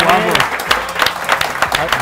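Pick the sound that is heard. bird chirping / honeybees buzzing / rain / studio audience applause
studio audience applause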